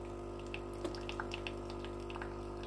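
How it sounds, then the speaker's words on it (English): A Tommee Tippee Perfect Prep bottle maker dispenses boiling water, a steady low hum and gentle trickle of running water with small drips and splashes, close and fairly quiet, with no talking. "So that's the boiling water."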